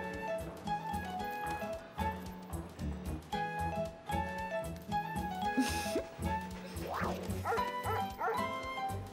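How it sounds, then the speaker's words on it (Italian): A fire station dog barks in a cartoon scene, its yips and barks sounding over a steady musical score, loud and close, with a few sharper whimpering yelps toward the end. "Che cosa ci fa un cane qui dentro?"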